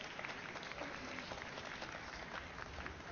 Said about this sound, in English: You can clap for that too.